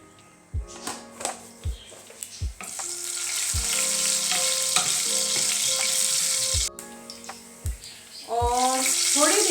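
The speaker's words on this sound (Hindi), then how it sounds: "और देन इसमें डालना है ज़ीरा और ये हमारा हो जाएगा तड़का" Cumin seeds for a tadka over mash daal sizzle and fry in a pan with chopped ginger, a loud steady hiss broken by a few clanks and stirring knocks.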